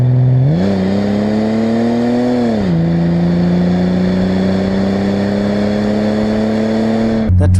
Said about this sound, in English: The exhaust sounds pretty sweet as well. Just listen to it.